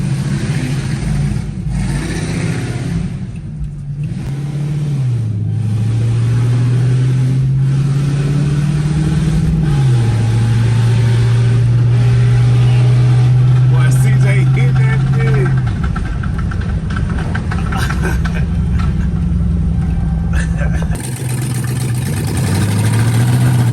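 A Ford Mustang with an LS engine swap idles with a deep, steady rumble and is revved several times, rising in pitch and falling back. People talk throughout.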